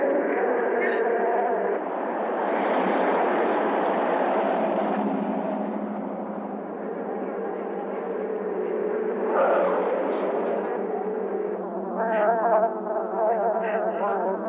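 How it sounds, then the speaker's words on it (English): A swarm of killer bees in a sci-fi thriller fills the scene with a dense, continuous droning buzz, loud and close, rising and thickening near the end. "the bees are coming at me!"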